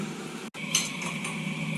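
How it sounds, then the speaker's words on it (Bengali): A metal lid clinks onto a cooking pot of Kolkata-style taro curry on the stove, one short bright clink over a steady low kitchen hum. "আর এদিকে এটা এবার মা ঢাকা দিয়ে দেবে একটু জাল উঠলে।"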